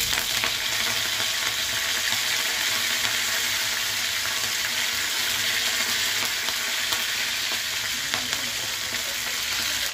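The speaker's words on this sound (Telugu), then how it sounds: "తాలింపు కూడా ఇలాగ వేగింది కదా, ఇలాగ వేగాలన్నమాట ఉల్లిపాయలు" Mustard seeds, dried red chillies and onions sizzle in hot oil for a tempering, a steady close frying hiss with faint stirring. It runs evenly with no one talking.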